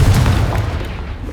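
A Confringo fire spell blasts in Hogwarts Legacy, a loud, dense booming explosion that fills the short moment and slowly fades.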